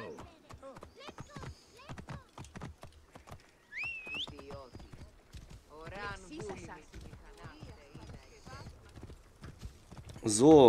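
Horse hooves clip-clop in a steady trot in Assassin's Creed Origins, with a single high whinny partway through, all under someone talking in German.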